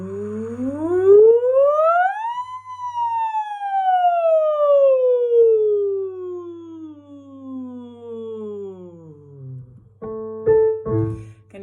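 A choir of singers in a Parkinson's singing group imitates a siren with their voices, sweeping up from low to high, then gliding slowly back down in one long slide, ending in brief scattered sounds.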